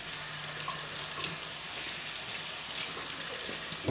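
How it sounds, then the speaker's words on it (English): Tap water runs steadily over scallions being rinsed in a kitchen sink, a close, continuous hiss and splash with small shifts as the stalks move under the stream. "I'm going to wash these off a little bit"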